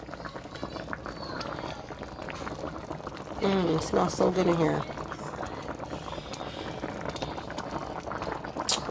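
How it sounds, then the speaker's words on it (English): Onions bubbling and simmering in a pan while Salisbury steak cooks, a steady soft sizzle and bubbling throughout, with a person speaking briefly over it in the middle. "Look at it bubble."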